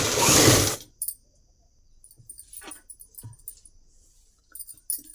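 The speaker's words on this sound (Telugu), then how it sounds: "దీని మీద ఒక కుట్టేసి వేసుకోవాలి." A sewing machine stitches along a folded edge of fabric for a child's dress. A short loud whirr of stitching is followed by quiet clicks and small handling sounds, and no one speaks.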